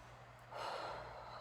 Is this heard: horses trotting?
no